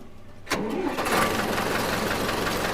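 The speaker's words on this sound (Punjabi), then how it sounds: "ਇਹਨੂੰ ਸਟਾਰਟ ਕਰਕੇ ਦੇਖਦੇ ਆ ਯਾਰ ਟਰੈਕਟਰ ਘੈਂਟ ਆ" A Sonalika DI 55 tractor engine cranks and catches after a short quiet moment, then settles into a loud, steady rumbling idle nearby.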